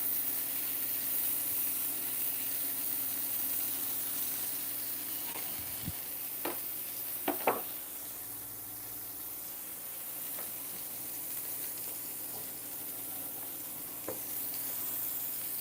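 Sausage frying in a pan sends up a soft, steady sizzle, broken by a few sharp pops and crackles around the middle. No voices are heard.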